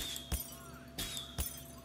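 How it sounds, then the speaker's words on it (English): Objects shatter in the South Park: The Stick of Truth video game, three sharp breaking crashes with glassy clinks spaced over about two seconds, heard above steady game background sound. "But I can shatter stuff, so that's cool."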